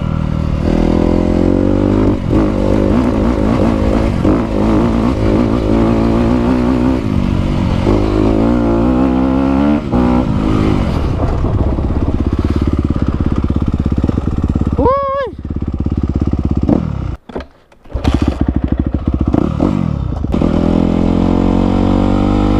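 A 2017 Honda CRF 250R dirt bike on a trail, its engine revving and buzzing loudly close by with rising and falling pitch and a brief cut-out near the end, while a rider talks over it.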